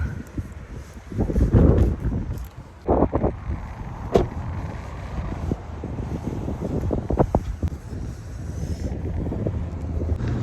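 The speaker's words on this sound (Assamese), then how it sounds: "বাপৰে ইমান বতাহ" Strong cold winter wind outside a shopping mall in America buffets the microphone in gusts, with low rumbling bursts and a few sharp knocks; no voices.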